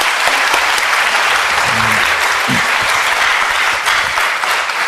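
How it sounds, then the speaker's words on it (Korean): A church congregation, high school group among them, applauds to welcome a missionary speaker: loud, dense clapping from many people that stays steady throughout, with a few faint voices mixed in underneath. "박수로 선교사님 환영합니다"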